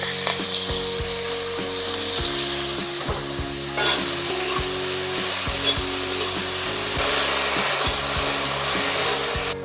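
Greens sizzle and fry in a hot pan for a matar shak bhaja, a pea-leaf stir-fry with salt and turmeric. A spatula scrapes and stirs steadily and rhythmically through a constant loud hiss, and no voices are heard.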